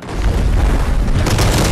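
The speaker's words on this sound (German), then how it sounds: "Der wirft Granaten." Heavy booming blast from a thrown grenade in Fortnite, a loud, sustained low rumble filling the short moment with no talk over it.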